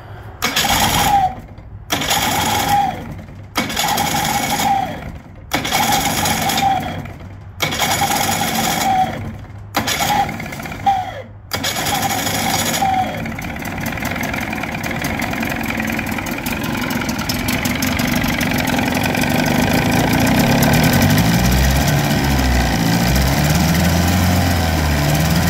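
A 1979 Johnson 35 hp outboard motor with electric start and electric choke, flooded after being choked to stop it, cranks in about eight short bursts with pauses. It then catches and settles into a steady, fairly loud idle, with no talking.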